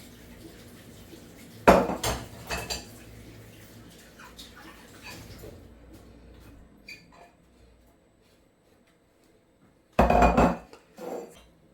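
Plates and bowls being rinsed and handled in a home kitchen while rice is prepared, with two loud bursts of ceramic clattering and clinking separated by quieter handling and faint running water.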